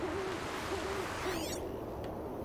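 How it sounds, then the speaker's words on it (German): An owl hoots in the video game Horizon Zero Dawn The Frozen Wilds, a few soft, clear calls in a quiet outdoor ambience, followed by a short swishing sound. "Kann ich die fucking Eule abschießen?"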